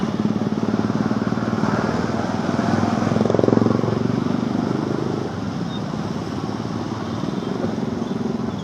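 Motorcycles on a morning commute road between Bekasi and Jakarta, a steady close engine drone with a louder swell around the midpoint, continuous traffic rumble throughout.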